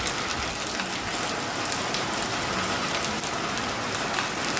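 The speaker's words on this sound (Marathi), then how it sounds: "हा पाऊस काही एवढ्यातच थांबेल असं वाटत नाही" Steady heavy monsoon rain pours down in Wardha, a dense continuous hiss of drops on surfaces with no voices, even and unbroken throughout.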